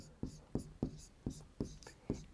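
Pen scratching across paper in a series of short, regular strokes about every third of a second, close and fairly quiet, with no voice over it.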